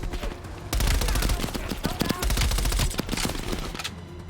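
Rapid automatic gunfire from Call of Duty Black Ops Cold War gameplay rattles in dense, fast bursts, loud and continuous with brief pauses, under a player's voice.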